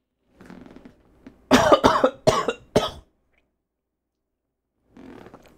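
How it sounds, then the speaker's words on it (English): A person coughs in a podcast setting with a quick cluster of three or four harsh, close coughs in a row, preceded and followed by faint throat noises and breathing. "That was a weird cough."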